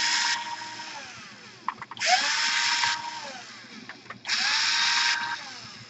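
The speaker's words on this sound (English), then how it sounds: "You need to unscrew those 4 screws." Power screwdriver unscrewing screws from an Asus G53 laptop during a DC power jack repair, three sharp high whirring bursts with brief clicks between them, close and loud with no talking.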